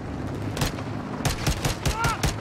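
Gunfire in the Call of Duty Modern Warfare II campaign, rounds striking near friendly troops during a convoy: a rapid run of sharp, loud shots in close succession, over a steady rumbling background.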